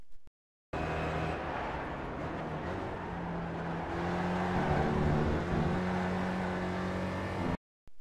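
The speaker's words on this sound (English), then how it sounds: "Just after turn-in, I'm squeezing on the power and should be at full throttle by apex." A Spec Racer Ford race car at Watkins Glen in the iRacing sim, its engine held at full throttle in a steady, loud, close drone with a gradually rising pitch and no gear changes or voices.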